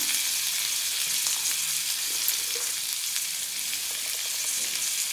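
Diced potatoes sizzle in oil in a pan for a Navratri fasting dish, a steady bright crackling fry with small scattered pops, close and continuous with no voices over it.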